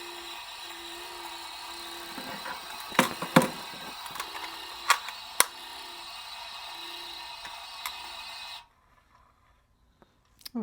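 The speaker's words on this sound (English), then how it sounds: "So I'm going to wind, let's see, about 5 bobbins." A bobbin winder on a Gammill longarm quilting machine whirs steadily with a thin, high mechanical hum and scattered small clicks while winding light gray thread, then stops abruptly, leaving near silence.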